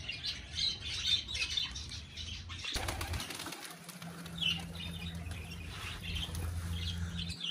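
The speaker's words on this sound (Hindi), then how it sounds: "कौवे ने डरा दिया इन्हें, फिर उड़ गए हैं।" A flock of pigeons takes off after being scared by a crow, a burst of loud wing flapping over outdoor chirping and background hum, fading into steady ambient noise.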